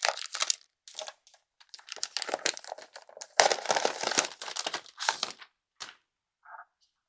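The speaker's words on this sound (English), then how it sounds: "We'll go ahead and remove the plastic" Plastic wrapping is peeled and crinkled off a Beelink SEi14 mini PC in close, bursty crackling handfuls separated by short pauses, ending with a few faint light clicks.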